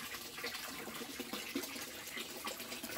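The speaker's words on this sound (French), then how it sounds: "Puis nous avons testé la cascade afin de s'assurer de l'étanchéité du circuit." Water from a solar-pumped cascade splashes steadily into a pond inside a greenhouse tunnel, a constant soft trickling and gushing at moderate distance.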